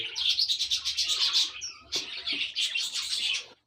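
Chicks in a breeding box give a steady stream of high, thin chirps and tweets, close and fairly loud, with a short break partway through.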